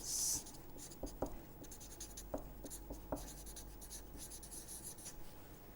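Chalk or marker writing on a board while a diagram is sketched during a math lecture, with a string of short scratchy strokes and taps, fairly close and quiet, alone without talk.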